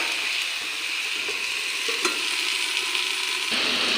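Mixed winter vegetables being stirred in a frying pan while cooking, a steady close hiss of frying with soft scraping of the spoon, continuous and even throughout without any talk.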